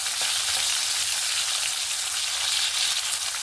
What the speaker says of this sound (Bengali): কাঁচা লঙ্কা টমেটোটা হালকা করে একটু ভেজে নেব।